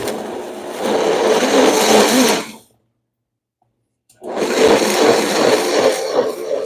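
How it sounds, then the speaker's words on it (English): A blender that cannot run at full speed whirs through flax tortilla batter in two loud, steady bursts separated by a pause of about a second and a half, with no talking. "what I'm doing is I'm blending it and then I'm going to dehydrate it"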